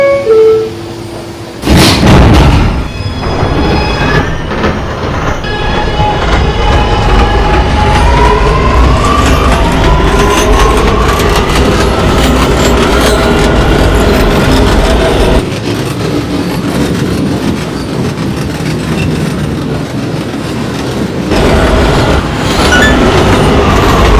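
New York City subway A train running late at night along the C line, a loud, sustained rumble with rhythmic clickety-clack of wheels over rail joints and rising whining pitches as it travels between stations.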